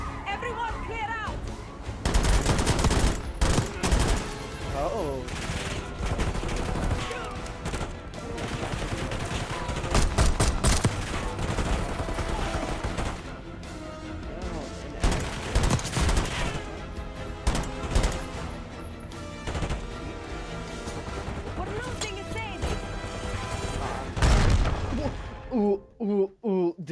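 Dense gunfire and bursts of automatic fire in the Call of Duty Black Ops 6 campaign, loud and close, with explosive crashes and shouted voices mixed through the constant shooting.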